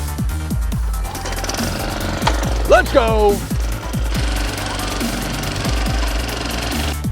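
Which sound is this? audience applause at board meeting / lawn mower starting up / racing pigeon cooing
lawn mower starting up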